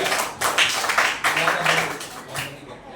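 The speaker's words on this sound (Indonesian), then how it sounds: "berikan tepuk tangan buat kelompok 3" A classroom audience clapping for a student group after their presentation, a dense patter of many hands close by that fades toward the end, with a voice briefly audible underneath.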